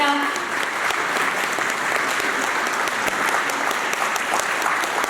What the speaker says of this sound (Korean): 큰 박수로 김철진 도의원님을 모시겠습니다